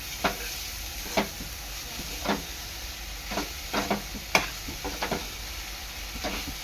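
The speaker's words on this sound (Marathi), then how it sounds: "चांगला मिक्स करून घ्यायचा आहे" Mango modak filling with jaggery is mixed in a pan, with a soft continuous sizzle broken by about a dozen irregular spoon scrapes and taps, close up and with no talk.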